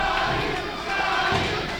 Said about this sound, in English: Listen, Taylor, they're calling my name